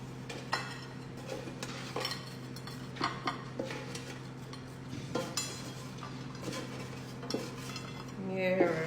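Dinner of chips and salmon being served up: metal cutlery scraping and clinking against dishes and pans in scattered, irregular knocks, with a steady background hum and no one talking.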